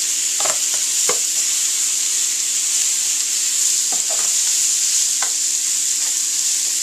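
Mushrooms sauté in a hot pan that has just been used to cook steak, giving a steady, loud sizzle with a few sharp scrapes and clicks from stirring. No one speaks.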